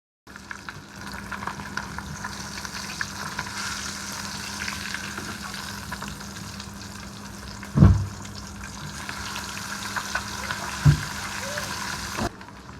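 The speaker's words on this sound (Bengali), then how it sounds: "মাছটা ভাজি হয়ে গেছে, এবার আমি উঠিয়ে নেব।" Climbing perch (koi fish) frying in oil in a pan, a steady close sizzle crackling throughout, broken by a couple of sharp clatters from stirring or turning the fish.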